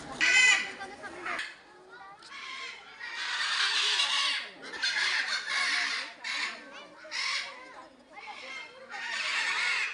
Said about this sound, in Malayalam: കൂട്ടിൽ ഭയങ്കര ബഹളം വെച്ചുകൊണ്ടിരിക്കുകയാണ് ഇത് ബ്ലൂ ഗോൾഡ് മക്കാവാഴി